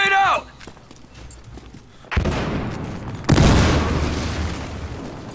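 A grenade blast in a team shooter game, two sharp, loud explosions a second apart each trailing into a broad rumble, with a voice talking just before.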